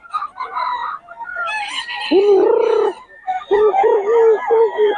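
A young gamecock stag crows loudly and close on a farm, two drawn-out calls in quick succession, while chickens cluck and squawk around it between and over the crows.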